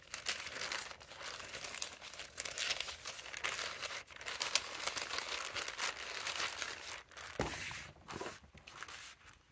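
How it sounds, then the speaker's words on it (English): Paper is crinkled and rustled continuously at close range, a quiet, dry crackling with small bursts of louder crunching and no speech. "Listen to this. This is something I love about this paper."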